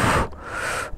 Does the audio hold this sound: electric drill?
no